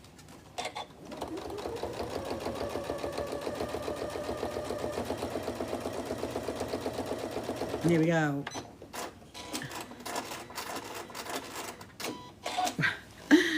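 A sewing machine runs steadily for several seconds with a fast, even stitching rhythm, then stops; a voice speaks briefly before and after, with some handling clatter.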